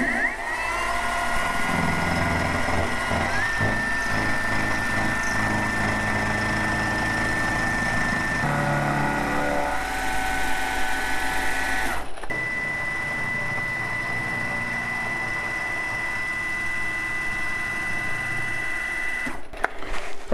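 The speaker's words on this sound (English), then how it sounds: "I'm going to do is machine out this channel here that the caliper will fit into" A milling machine cuts a channel into a caliper depth base, giving a steady, loud, whining motor drone with a sustained tone that shifts pitch partway through and then carries on alone.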